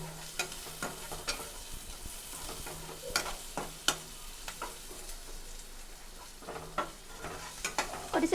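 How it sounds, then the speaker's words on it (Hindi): Finely chopped onion frying over a medium flame in a pan, with a steady low sizzle and soft scattered stirring clicks, close and alone without talk. "और इसे गोल्डन ब्राउन होने तक मीडियम फ्लेम पर थोड़ी देर भून लेंगे।"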